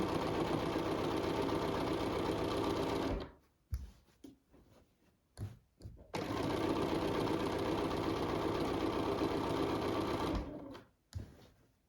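Domestic sewing machine stitching a quilt, a fast steady mechanical whir with ticking needle strokes, running in long bursts separated by short pauses and brief restarts, close and loud.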